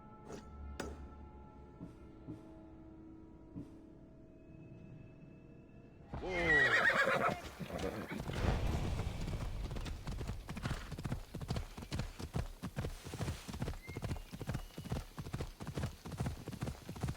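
Horse neighing in a video game, followed by steady rhythmic hoof clip-clops as it moves, loud and continuous after a quiet ambient stretch.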